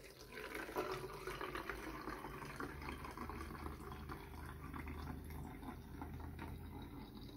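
Water running into a container when making a homemade toilet freshener with laundry soap, a steady faint rushing pour lasting several seconds without a break.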